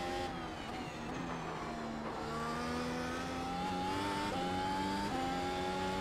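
A W12 car engine pulls at full throttle on the Nordschleife, a steady loud drone rising in pitch through the gears with brief dips at shifts, continuous and close with no talk.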